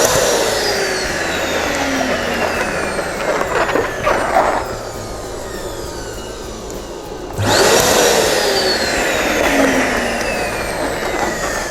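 An electric balloon inflator runs in loud, steady whirring bursts, cutting off briefly in the middle before starting up again, with faint rubbery squeaks of balloons filling.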